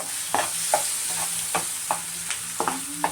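A spoon stirs coconut chutney into wedding-style vermicelli upma in a pan with the stove off, giving a run of distinct scraping strokes every half second or so, close and fairly loud, with no talking.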